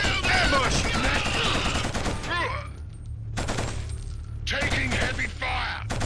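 Heavy gunfire in the shooter game Killzone, with dense rattling bursts and overlapping shots during an ambush, loud and continuous, briefly thinning before more firing erupts, with shouting voices mixed in.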